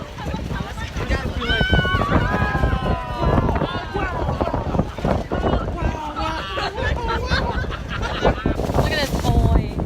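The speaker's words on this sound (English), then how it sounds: "It's not raining, it's just windy. It's just super windy." Strong wind buffets the microphone throughout, a constant roaring rush with people talking over it.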